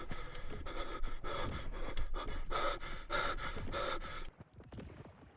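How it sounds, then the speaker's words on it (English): Heavy, rhythmic breathing sounds close to a microphone on a night-time livestream, with several harsh panting breaths in a steady pattern before it cuts off into faint clatter. "I'm hearing heavy breathing right now."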